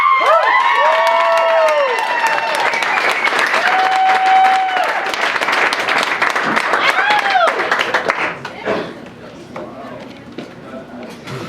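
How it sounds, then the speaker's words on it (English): A lively audience applauds and cheers loudly at a live event, with clapping, whoops and shouting voices that carry on for several seconds and then fade to scattered noise. "I want everybody to give a big round of applause for Kristin."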